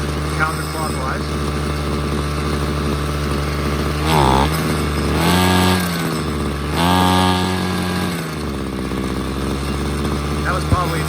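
Small two-stroke engine of a Ryobi CS26 string trimmer, idling with a steady buzz and then sagging and bogging as the throttle is opened, the revs wavering rather than climbing cleanly, heard close up.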